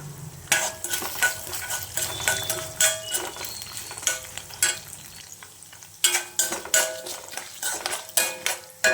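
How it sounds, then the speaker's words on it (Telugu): Chana dal, urad dal and cumin stirred in a pan for ginger pickle, a spatula scraping and tapping in an irregular rhythm of close, crisp clicks with no one speaking. "అలాగే శనగపప్పు, మినప్పప్పు, జీలకర్ర కూడా వేసుకుంటున్నాము."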